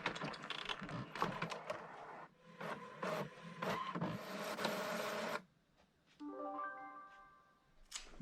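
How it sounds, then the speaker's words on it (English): A printer runs off cider bottle labels, close and fairly loud, with busy mechanical feeding and printing bursts for about five seconds, then quiet, then a short series of tonal beeps. "Just got to print these off now."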